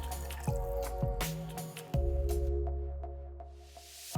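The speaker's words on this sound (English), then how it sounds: "After adding rice, I'm going to add water to it." Water is poured into rice and chicken in a pot for one-pot biryani, a close, wet dripping and splashing with a few distinct drops, fading to quieter drips.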